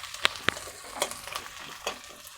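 A spice masala of bay leaf pieces, cinnamon and cardamom fries quietly in a pan, a low sizzle punctuated by several sharp spatula clicks and scrapes as it is stirred.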